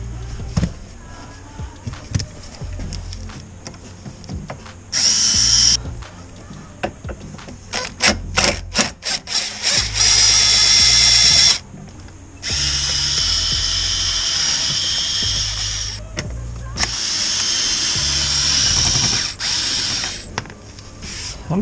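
Power drill spinning fasteners out during a heater core install on a second-generation Nissan Xterra/Frontier, heard as repeated loud bursts of whirring and ratcheting separated by short pauses and clicks.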